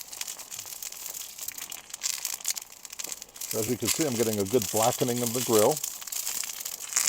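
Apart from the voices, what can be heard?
oil spattering on a hot griddle being seasoned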